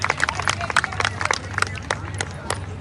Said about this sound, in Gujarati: ફરીથી તાળીઓથી આપણે એમને શુભેચ્છા પાઠવીએ.